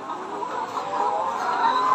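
Layer hens on an egg farm make a dense, continuous murmur of clucking, a steady flock chorus with no single bird standing out.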